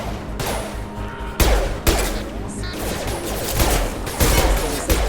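Gunfire in Mass Effect 2 Legendary Edition, with repeated sharp shots and bursts over a continuous dense game soundscape of crashes and whooshes.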